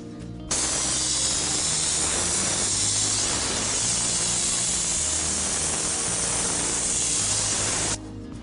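Liquid weather resistive barrier coat is sprayed as a light scratch coat over wall joints, a loud steady hiss that starts abruptly, runs unbroken for about seven seconds and cuts off, with machine hum underneath.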